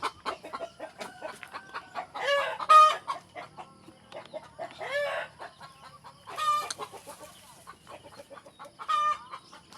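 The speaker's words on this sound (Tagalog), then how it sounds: "Tingnan natin yung mga nangingitlog dito." Laying hens cluck in a few loud, throaty bursts spaced a couple of seconds apart, with quieter clucks and faint farmyard noise between them.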